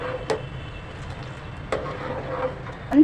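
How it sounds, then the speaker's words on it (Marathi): A spoon stirs Ambemohar rice cooking in milk for kheer, making a few sharp scraping clinks against the pot over a low, soft bubbling. "आपल्याला मध्ये मध्ये ढवळत राहायचं आहे दोन दोन मिनिटाने"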